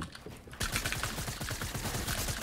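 Spraying gunfire in Fortnite, a rapid burst of shots starting abruptly after a quieter moment and continuing as steady rattling fire at moderate loudness.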